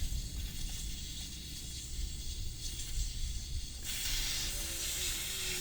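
Air hissing out of a tire as the valve stem is pulled, a continuous rushing hiss that gets louder and brighter partway through, close and steady with no talking.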